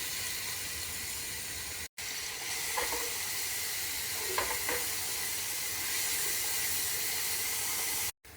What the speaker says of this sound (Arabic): حطيت سمن وعلى طول بنزل البصل